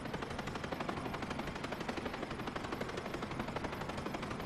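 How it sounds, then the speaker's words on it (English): Airship propeller in Final Fantasy Tactics, a steady rapid chopping drone much like a helicopter rotor, continuous and fairly loud with an even pulsing rhythm throughout. "I know this is supposed to be a propeller, but it does sound like a helicopter"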